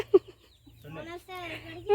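A chicken being handled gives a sharp short cluck, then a longer run of drawn-out clucking calls close by.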